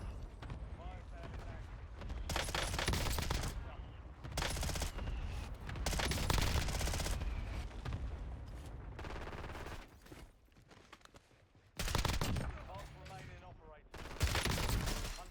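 Rapid video game gunfire in bursts from a high-velocity weapon, loud close shots repeating across the stretch with brief pauses, while a player talks over it.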